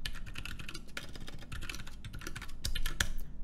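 Keys clatter on a computer keyboard in a quick, uneven stream of close, crisp taps, continuous with no voices.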